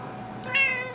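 A cat gives a single clear meow, close and fairly loud, rising out of a quiet room background near the end of the second.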